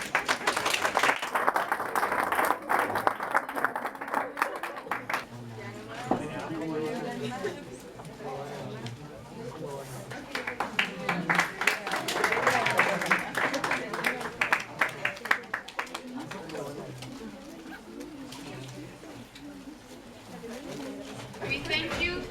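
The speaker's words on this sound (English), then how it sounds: "Let's give all of them a big applause." An audience at a school English oral presentation contest claps in two rustling bursts of applause, mixed with a speaking voice and background chatter.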